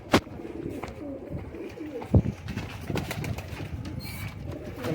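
Sialkoti pigeons of a flying breed coo and flutter close by, with a couple of sharp wing claps or knocks standing out above a steady murmur of cooing and rustling from the birds.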